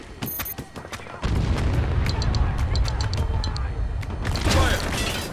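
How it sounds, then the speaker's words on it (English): Mortar fire in the war shooter Spec Ops The Line, with a sharp boom followed by a heavy, sustained rumble of blasts and mechanical clatter. Brief metallic clicks come first, and gunfire crackles near the end. "Mortar."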